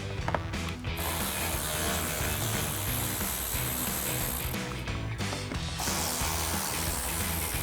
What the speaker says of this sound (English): Grab a ratchet, T15 socket, take those 3 out.